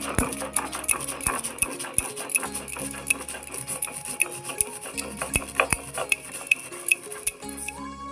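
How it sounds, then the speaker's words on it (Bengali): Mustard seeds and dried chillies being ground into a paste on a stone shil-pata slab, heard as a steady scraping and rolling of stone on stone with repeated sharp knocks and clicks close by. "তো আমি শিলপাটায় বেটে দিচ্ছি।"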